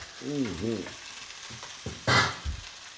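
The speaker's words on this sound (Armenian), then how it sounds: "Ես սպասենք մի քիչ, մինչև միսը տապակվի" Veal with vegetables fries in a pan with a quiet, steady sizzle; a short tonal vocal-like sound comes early, and a louder burst of hissing spatters about midway.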